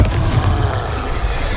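Fiery Confringo spell explosions in the Hogwarts Legacy video game, mid-fight against a lumbering foe, give a loud, continuous rumbling roar with crackling bursts that carries on without a break.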